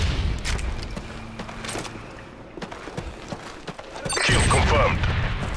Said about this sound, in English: Oh, grenade.